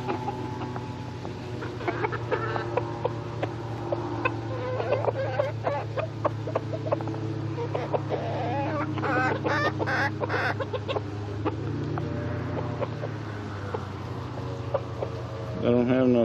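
A chicken clucks close by on a Miami gator airboat tour outing, with repeated short calls scattered through a steady low engine-like drone and people talking nearby.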